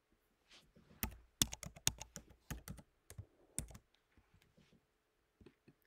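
Keystrokes on a MacBook Air keyboard as a password is entered: a quick, irregular run of soft, close clicks with brief pauses, fading to a few scattered taps near the end, no talking.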